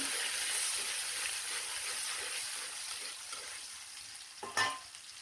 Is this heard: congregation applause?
no